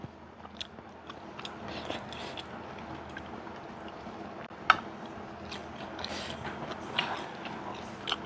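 Someone eats neem (sadao) shoots with sweet fish sauce, giving steady close crunching and chewing with soft clicks and occasional sharper bites.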